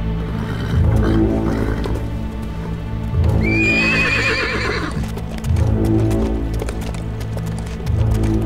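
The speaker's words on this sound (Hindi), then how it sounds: "इज़ादोरा, ये घोड़ा पुरसुकून और बहुत समझदार" A horse whinnies loudly once mid-way while hooves clip-clop in a steady rhythm on hard ground nearby, the neigh rising over the repeated footfalls.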